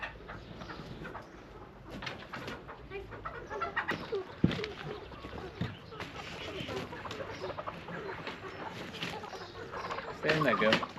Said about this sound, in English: Heavy bunch of birds.